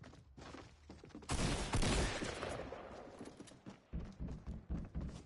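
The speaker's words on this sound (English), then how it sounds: "As you can hear, there's more gunshots going off than in Detroit" Bursts of rapid gunfire in the video game Fortnite, a loud dense volley in the middle followed by several shorter separated shots, fairly near with no voice over it.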